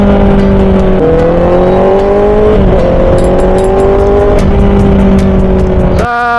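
Honda CB650R motorcycle engine revving hard, loud droning exhaust tone that climbs and drops in repeated pulls with gear-like steps, close by and continuous, ending in a sharp rattling burst.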